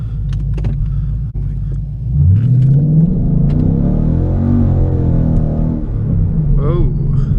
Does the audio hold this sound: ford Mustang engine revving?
yes